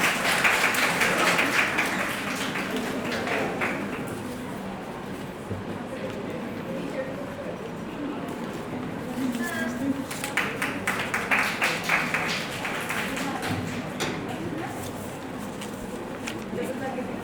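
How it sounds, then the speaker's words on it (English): Audience applause at a teachers' day ceremony honouring fifty teachers of a school in Hisar, sustained clapping that swells at the start and again midway, with voices and crowd murmur underneath. "Give a big round of applause."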